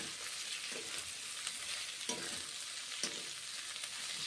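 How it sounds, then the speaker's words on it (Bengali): Cabbage frying in a pan with garlic, a quiet continuous sizzle broken by a few soft stirring scrapes and clicks spaced about a second apart, close up and without talk. "তারপর বাঁধাকপিগুলো ভেজে নিচ্ছি"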